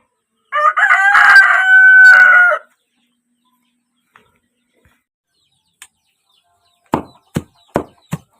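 A rooster crows loudly once near the start, then silence, followed by several short, sharp clucks from a chicken close by.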